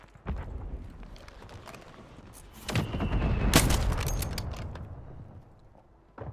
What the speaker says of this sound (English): Firing missile at target coordinates.